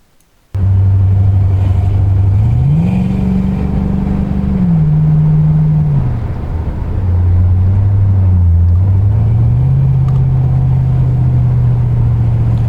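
A 1984 Buick Regal G-body with an LS swap (L96 V8, 6L90 automatic) roars at full throttle, its loud, close engine note climbing through gears with shifts and a brief dip before pulling hard again.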